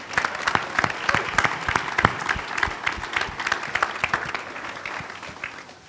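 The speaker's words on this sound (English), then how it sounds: "If we could give them a round of applause." An audience at a university soccer press conference gives the WSU Cougar soccer team a round of applause, with sharp, close individual claps standing out over a lively, continuous patter that fades slightly at the end.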